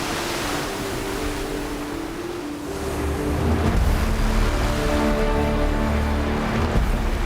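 Ocean waves surging and crashing on a shore, a loud continuous roar of broadband surf that swells stronger midway and stays heavy, with a low tonal layer underneath.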